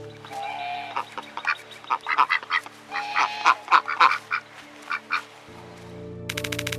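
A goose with a 3D-printed leg honks repeatedly in a loud, irregular run of nasal calls, close by, with other fowl and a steady hum behind.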